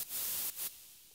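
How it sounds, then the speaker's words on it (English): Synthesizer white noise built from three oscillators, heard as two short bursts of bright hiss that cut off abruptly, then a quieter, steadily fading noise tail. "It's played together with white noise, and white noise is just 3x oscillator."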